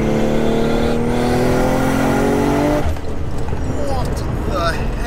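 A 955 bhp Nissan R33 GTR with a sequential gearbox revs hard on boost, a loud, close engine note climbing, then dropping away with a sharp change while someone talks over it.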